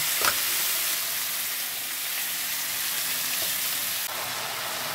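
Masala with Kashmiri chilli fries in oil with a steady, dense sizzle that stays loud and even throughout, with one sharp spatter near the start and no voices.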